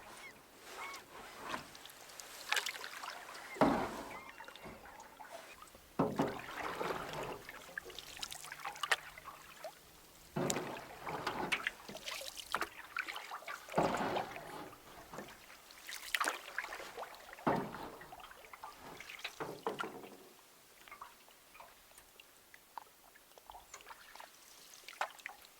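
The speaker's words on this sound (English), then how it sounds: "A very easy paddle." Paddle strokes dip and pull through calm lake water in a steady rhythm of soft splashes and drips from a canoe or kayak, close by, with goose-like honks and bird calls now and then and no talking.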